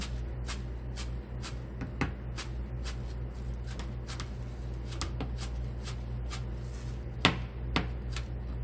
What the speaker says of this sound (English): Now some chives. I'm going to chop it finely.